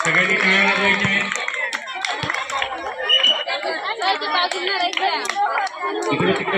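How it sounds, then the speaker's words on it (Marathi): Spectators at a village volleyball tournament in Murbad clap in scattered bursts amid crowd chatter, with an announcer talking loudly over the clapping throughout. "सगळ्यांनी टाळ्या वाजवायच्या आहेत."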